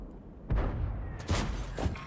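Artillery shells slam into a tank in the game World of Tanks, three dull booming impacts about half a second to half a second apart over a low rumble, moderately loud.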